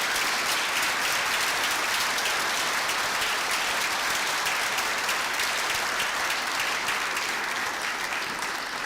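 An audience at a master's graduation ceremony applauds steadily, a dense and sustained wash of clapping that holds at an even level throughout.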